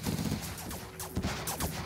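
Rapid bursts of unit weapons fire from Command & Conquer Generals Zero Hour, a dense cluster of sharp, closely spaced shots rattling over about two seconds, loud and alone without talk.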